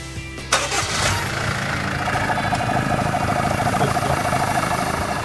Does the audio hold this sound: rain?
no